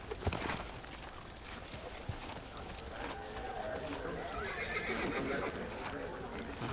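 In the video game Assassin's Creed, a horse whinnies and its hooves clop along at a walking rhythm, fairly faint beneath someone talking over the game sounds throughout.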